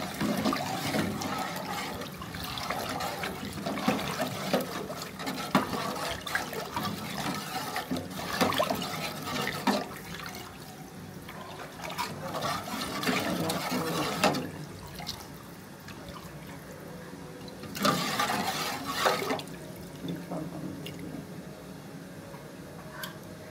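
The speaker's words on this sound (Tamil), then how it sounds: "தேவையான அளவு தண்ணி, உங்களுக்கு எவ்வளோ வேணுமோ அவ்வளோ தண்ணி." Water being poured into soaked, mashed tamarind for rasam, a steady splashing and trickling of liquid that rises and falls in several pours, close by, with no talk.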